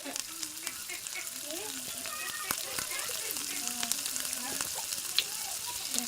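Panch phoron spices frying in mustard oil in a wok, a soft, steady crackle and sizzle with occasional sharper pops, under quiet voices and room clatter.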